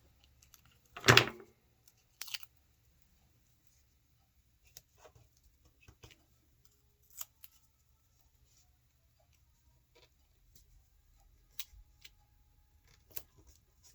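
Tape or paper torn by hand for a party scrapbook: one sharp, close rasping rip, then a second shorter tear and a few faint ticks and rustles in a quiet room.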